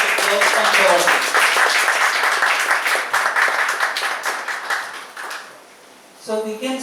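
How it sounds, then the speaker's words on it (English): An audience at a conference session applauds after a presentation, a dense burst of clapping that gradually thins and fades, followed by a voice speaking briefly. "A big round of applause from the audience."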